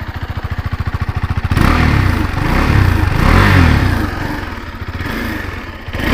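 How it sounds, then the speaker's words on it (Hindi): A KTM RC 390 sport motorcycle idles with a rapid, even single-cylinder thump, then is revved loudly several times, the engine note swelling and dropping between blips, close by with no talk. "अब थोड़ा रेव करके दिखाते हैं,"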